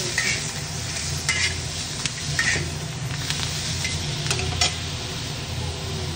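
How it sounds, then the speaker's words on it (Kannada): Tomatoes frying in oil in a pan for drumstick-leaf bassaru, a continuous close sizzle with several scraping stirs of a spoon against the pan and no voices. "ನೋಡಿ, ಇವಾಗ ಟೊಮೆಟೊ ಹಣ್ಣು ಫ್ರೈ ಮಾಡ್ಕೊತಾ ಇದ್ದೀವಿ."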